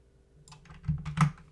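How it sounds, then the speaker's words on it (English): Computer keyboard keys pressed during 3D software work, a few soft clicks followed by two louder taps, close and quiet with no talking. "Hit W on the keyboard and move it"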